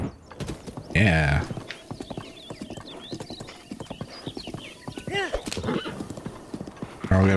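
Rapid rhythmic hoofbeats of a galloping horse in Zelda: Breath of the Wild, punctuated by loud whinnies, with game sound effects layered throughout.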